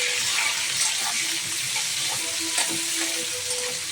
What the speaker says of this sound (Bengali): পেঁয়াজটা সামান্য একটু লাল লাল ভাজা হবে